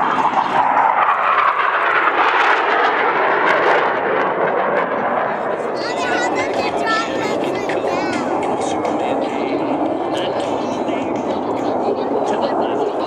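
Blue Angels jets flying opposing inverted-to-inverted rolls at an outdoor air show give a broad, steady roar throughout, with a rushing swell early and crowd or commentary noise layered underneath.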